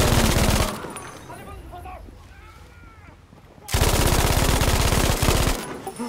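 Automatic gunfire in the World War II shooter game Battlefield V, with loud rapid bursts at the start and again in the second half, separated by a quieter gap of ambient game sound.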